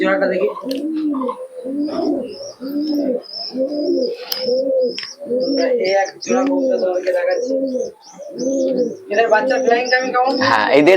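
Red shira giribaz pigeons, a tumbler breed, coo in a steady run of repeated rolling calls, loud and close, with higher chirps near the end and voices talking in between.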